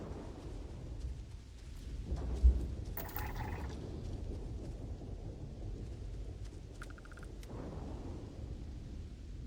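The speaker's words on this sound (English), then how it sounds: "A lightning storm over here." A lightning storm rumbles in Starfield, a low continuous thunder roll with a sharp crack partway through and faint rain-like hiss, with no speech.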